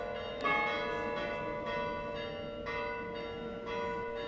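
Church bells on Syros, Greece ring out on a Sunday morning with a sustained, resonant tone, several strikes blending into a continuous layered ringing that carries from a distance.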